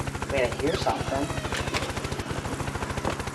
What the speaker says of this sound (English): My very own attack helicopter.